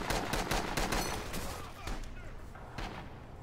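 Close artillery and gunfire in the video game Rising Storm 2, loud repeated blasts and shots in a dense battlefield din, with a voice faintly present.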